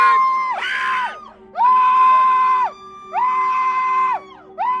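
Several people on a deck screaming loudly at a bear opening a Mercedes car door, long sustained shrieks in repeated bursts with short gaps between them, close and piercing over a low steady background hum.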